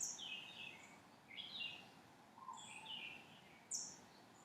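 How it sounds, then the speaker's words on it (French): Several birds chirp and trill in short, high bursts around an indoor room on Réunion island, faint and somewhat distant, spaced irregularly over quiet background hiss. "le plaisir d'entendre des oiseaux qui entourent la salle dans laquelle je suis"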